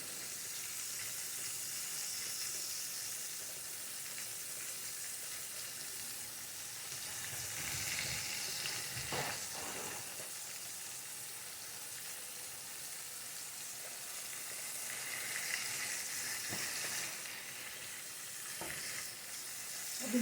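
Turkey chops fry in a pan with onions, giving a continuous close sizzle and crackle that swells and eases as the meat is moved, with occasional scrapes of a utensil.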